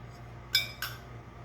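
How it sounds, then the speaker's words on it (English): Spoon clinking against a mixing bowl while lemon extract is stirred into wet blueberry muffin ingredients, two bright metallic taps close together in a quiet room. "Take a spoon and just mix it all in there."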